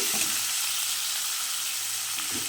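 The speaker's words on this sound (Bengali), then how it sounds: "ভালো করে নাড়তে থাকবো সবজিগুলো ভালো করে নেড়ে দেবো" Beetroot and carrot curry sizzling and frying in a pan while being stirred, a steady close hiss with light scraping throughout.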